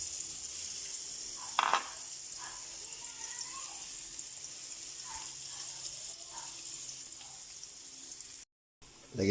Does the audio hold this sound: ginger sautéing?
yes